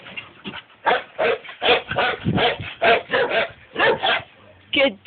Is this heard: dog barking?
yes